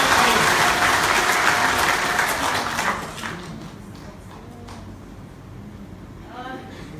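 A church congregation at a women's conference claps hands in praise, dense and loud at first, then fading over a few seconds into a quieter room with scattered voices.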